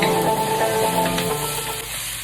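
Broccoli with its tough stems sizzling in a hot stir-fry pan, a loud continuous hiss and crackle of vegetables frying close up.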